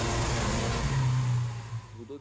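A Lamborghini Aventador V12 engine and exhaust: a steady, deep mechanical roar that swells, then drops away and trails off into a faint low rumble, with no talk.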